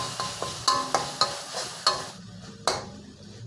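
Minced pork with holy basil stir-fried dry in a wok, with a steady sizzle and several sharp spatula scrapes and clacks in quick succession, close and fairly loud, no voices.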